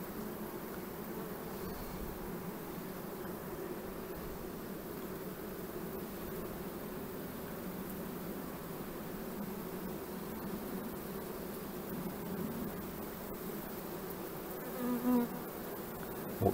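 Honeybees buzz in a dense, steady drone during a hive inspection for queen supersedure, close and continuous throughout with little variation.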